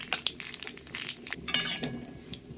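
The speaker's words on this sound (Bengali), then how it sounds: "তেলটা গরম হয়ে গেছে, এবার ফোড়নে দিয়ে দেবো শুকনো লঙ্কা, কালো জিরে" Dried red chillies and black cumin tempering in hot mustard oil in a kadai, giving light crackling and sizzling with scattered metallic clinks of a spoon stirring, fairly quiet and close, no talking.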